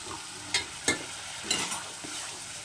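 Boiled dal tipped into a pan of oil-glossed sautéed spices for a pure veg dal, with a few sharp clattering strokes and stirring scrapes over a low sizzle. No voices.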